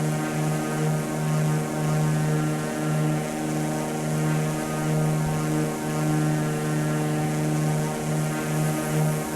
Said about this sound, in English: this is our initial test flight of our Mooney aircraft